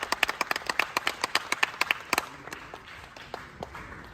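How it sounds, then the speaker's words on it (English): An audience at a bodybuilding show claps for the top five Class B competitors, a brisk run of sharp hand claps that thins out and fades toward the end, with no talking over it. "Round of applause one more time for your top 5, Class B."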